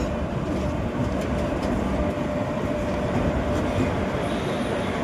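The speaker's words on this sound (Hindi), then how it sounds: "सामने देखो खड़ी है कंचनजंगा एक्सप्रेस, सिलचर से आने वाली, हावड़ा को जाने वाली" Steady, loud rumble and rattle of a train at NJP railway station, where the Kanchanjunga Express from Silchar to Sealdah stands, with faint wheel squeals over the continuous rail noise.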